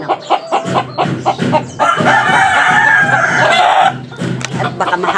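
Rooster, a three-time winning bird, crowing loudly up close with a long drawn-out call in the middle, surrounded by repeated clucking from fowl before and after.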